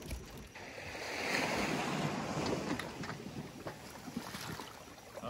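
Ocean waves wash onto a beach, a broad surging roar building over a couple of seconds and then fizzing out, mixed with gusty wind buffeting the microphone.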